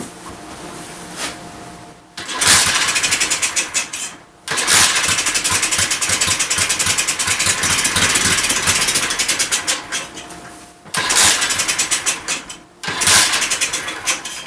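A Honda Z50 clone motorbike engine, its idle circuit screw turned in so it runs lean, roars loudly and unevenly, cutting out briefly several times before catching again.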